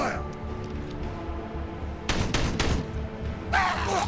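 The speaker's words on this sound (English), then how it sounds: "Let's shoot this guy down. Open fire." Gunfire in the strategy game Warhammer 40,000: Regicide, several quick loud shots clustered together after a stretch of background game sound, followed by a harsher burst near the end, with a voice speaking over parts of it.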